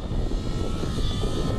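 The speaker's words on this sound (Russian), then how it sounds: "поднялся Дмитрий Грудецкий, его машина в воздухе" Radio-controlled model airplane engine at a Fun Fly event in Siberia, holding a steady, loud, buzzing drone as the aircraft flies, continuous throughout with no voices.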